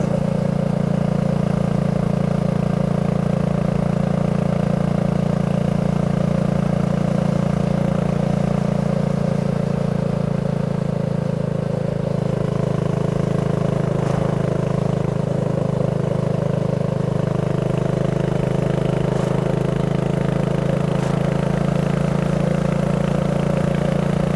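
A BSA Goldstar 650 motorcycle running under way, its engine giving a loud, steady, low drone close by throughout with little change in pitch and no talk.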